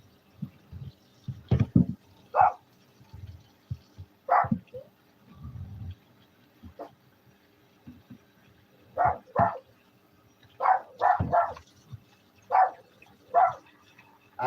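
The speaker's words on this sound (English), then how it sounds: "What are you barking at?" A dog barks indoors in short, sharp bursts, singly and in quick clusters, at moderate volume against a quiet room, with a few soft whimpers and faint movement between barks.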